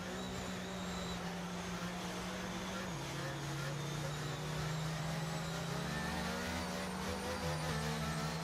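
Race cars in an F1 video game at Monza drone steadily as the pack compresses behind the safety car, the engine pitch shifting slightly now and then, with commentary running over the continuous noise.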